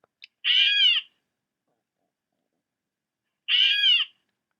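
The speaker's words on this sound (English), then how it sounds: "The catbird. The first sound is going to be the warning." Catbird warning call: two harsh, nasal mewing calls about three seconds apart, close and clear against silence.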